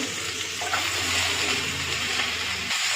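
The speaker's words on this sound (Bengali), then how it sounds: "সমস্ত বাঁধাকপিগুলো দিয়ে দিয়েছি বন্ধুরা।" Cabbage added to mixed vegetables cooking in a pan gives a loud, steady rushing sizzle that holds evenly throughout, close and without speech, cutting off sharply near the end.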